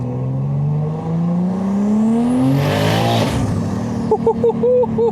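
A 1000-horsepower all-wheel-drive BMW M3 accelerates hard in a short sprint, its engine rising in pitch through a gear before a loud rush of wind and turbo whoosh. Brief voices come in near the end.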